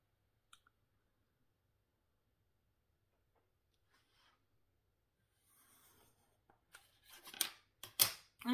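Scissors or a paper trimmer slicing through card stock while making a simple pull-tab card, a few quiet clicks and faint rustles building into a cluster of crisp, close cuts near the end.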